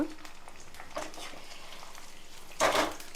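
Green chilies frying in a pan, with a steady soft sizzle, a few stirring scrapes, and a louder burst of frying noise near the end.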